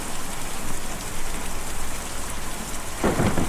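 In the video game Kentucky Route Zero, steady rain hisses through a thunderstorm, and a rumble of thunder swells near the end, with no voices present.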